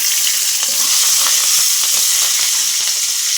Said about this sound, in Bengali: এবারে আমি কাঁচা লঙ্কাটা দিয়ে দেব